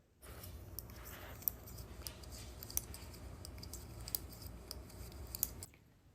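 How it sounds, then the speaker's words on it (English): Scissors snipping loose yarn floats on the back of a knitted swatch, a quick run of small crisp clicks over a soft steady rustle, close and quiet. "If the yarn floats in the back are too tight and tangling on your swatch, cut them"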